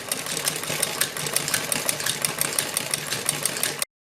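A sewing machine stitches a zig-zag design on a salwar hem, a steady close mechanical whirring with rapid ticking that runs unbroken and then stops abruptly near the end.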